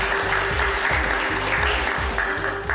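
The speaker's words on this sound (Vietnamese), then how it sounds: "Xin vị cho một tràng pháo tay thật nồng nhiệt." Audience applause at a Buddhist ceremony in Ca Mau, Vietnam: a sustained wash of many hands clapping, loud and continuous, with steady low thumps pulsing underneath.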